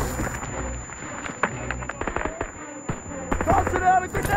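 Grenade blasts and gunfire in the World War II shooter Call of Duty WWII, a dense run of sharp cracks and booming bursts over a rumbling battle bed, with voices calling out among the shots.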